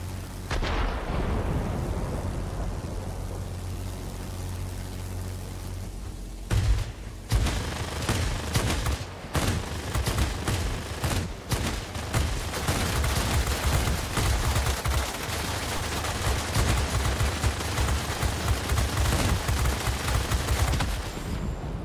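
Explosions and gunfire in World of Warplanes, a steady engine drone giving way to dense, rapid bursts of firing and booming blasts that continue loud and close to the end.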